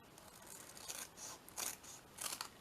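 Scissors cutting through parchment paper in several short, crisp snips, close and quiet with brief gaps between cuts.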